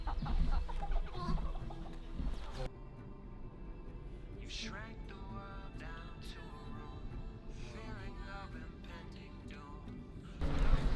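A chicken clucking near a war refugee centre in Ukraine, sharp repeated clucks and squawks close by amid background bustle, with people talking around it.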